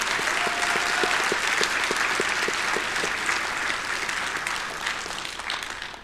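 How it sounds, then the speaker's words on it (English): An audience at a college winter commencement ceremony claps in a sustained round of applause, dense and steady, slowly thinning toward the end, with a faint voice briefly audible early on. "Let's give her a round of applause."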